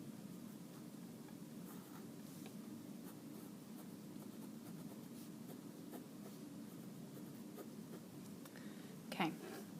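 A pen scratches on paper with quiet, faint strokes over a low steady hum, with one brief louder scrape near the end.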